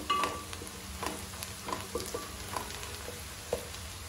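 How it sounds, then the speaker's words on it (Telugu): Onions, cumin and fenugreek frying in hot oil in a pan for a spicy mango fish curry, giving a soft steady sizzle with scattered pops and light stirring scrapes, close and alone. "ఆనియన్స్ కూడా మంచిగా ఫ్రై అయినాయి"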